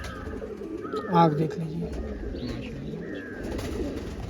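A two-year-old racing hen pigeon of Rampuri type coos close by in short soft bursts, with someone talking over it throughout.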